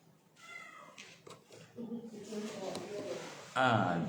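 A cat meows several times in short calls, with a louder one near the end, amid room noise and a faint voice.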